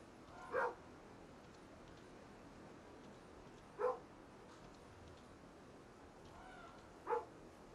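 A dog in the video game Norse Lands gives three single, faint barks spaced a few seconds apart, heard from a distance over a quiet ambient background with no speech.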